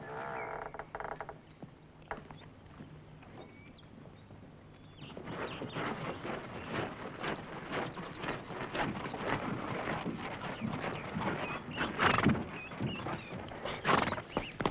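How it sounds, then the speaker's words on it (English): Saddled horses shift and step with intermittent hoof clops and snorting or whinnying, close at hand amid outdoor wind noise, growing busier and louder through the second half. "Saddle a couple of horses for Miss Wells and myself, will you"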